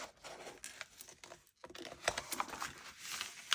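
Paper envelope being folded over for a junk journal cover: soft crinkling and rustling with small taps and creases, close and quiet, with a short pause midway.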